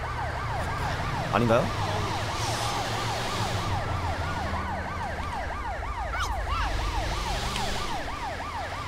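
A British ambulance siren in GTA V wails, sweeping up and down continuously over a steady engine hum, with a brief spoken question partway through.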